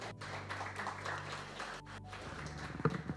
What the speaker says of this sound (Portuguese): Uma salva de palmas para eles, obrigado pelo vosso.